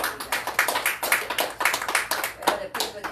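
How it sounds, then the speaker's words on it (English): A church congregation claps steadily in an irregular, lively patter of many hands, loud and close throughout, with voices mixed in underneath. "Let's give Jesus a hand clap."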